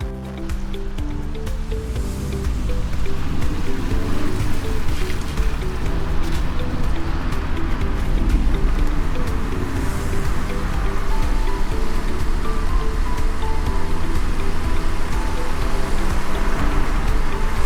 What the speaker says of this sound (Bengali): আমরা যখন বিধাননগরে নামি শুরু হয় মুষলধারায় বৃষ্টি।